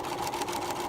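Domestic sewing machine stitching a pillow seam at a 5/8 inch seam allowance, running steadily and close with a continuous motor whir and rapid needle clatter throughout, no talking.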